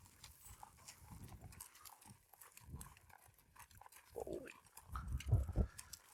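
A horse's hooves clip-clop in uneven, irregular steps during flag desensitisation training, faint at first and growing louder and closer near the end, with no talking.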